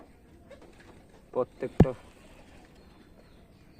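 Rain-soaked, ailing pigeons let out a few short, close coos in a brief cluster, mixed in with a person's nearby speech.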